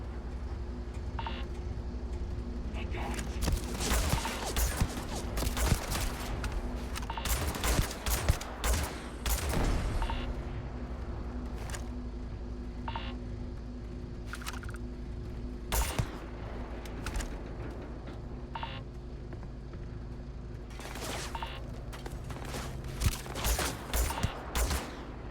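Gunfire in the video game Starfield, rapid bursts and clusters of sharp shots spread through the stretch, loud and close over a steady electronic hum, with quieter gaps between volleys.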